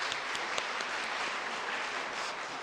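A congregation at a Sunday church service gives warm, sustained applause for the pastor. The clapping of many hands is dense and even from start to finish, filling the room with no voices over it.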